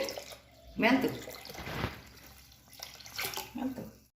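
Water is poured over rice in a bowl to soak it for steamed idli, heard as a couple of close, splashy pours with gurgling between them and no speech.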